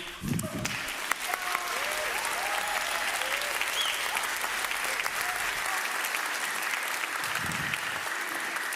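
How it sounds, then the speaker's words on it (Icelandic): A church congregation at a Sunday service applauds the musicians and choir, a loud, sustained burst of clapping that runs unbroken for several seconds, with brief low voices at the start and near the end. "er ekki alveg kjörið að klappa enn og aftur fyrir þessu frábæra tónlistarfólki"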